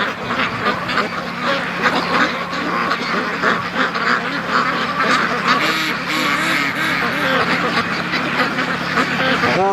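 A free-range flock of ducks quacks nonstop while feeding outdoors, many overlapping calls close by forming a busy, continuous chatter throughout.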